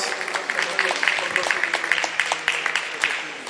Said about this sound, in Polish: Pani Czesława, jeszcze raz brawa